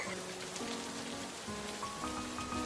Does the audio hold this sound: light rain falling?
yes